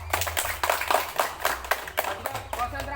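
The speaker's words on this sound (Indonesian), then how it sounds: "Bisa? Tepuk tangan dulu." A group of schoolchildren in a physical education class claps their hands, a string of sharp, uneven claps close by, mixed with a voice talking over them.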